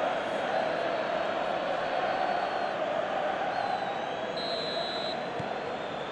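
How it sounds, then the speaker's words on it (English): Football stadium crowd in the PES video game for an Inter Milan vs Arsenal Champions League match, a constant dense roar of distant fans with a thin whistle-like tone over it. "The crowd are calling for this to be put to bed."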